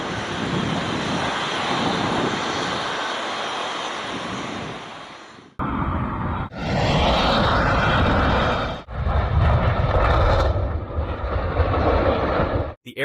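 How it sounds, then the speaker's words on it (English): A TAP Air Portugal A340 engine roars loudly and steadily as leftover fuel ignites into flames, the continuous jet noise broken by a few abrupt cuts. "TAP Air Portugal. A 340 engine bursts into flames as fuel ignites."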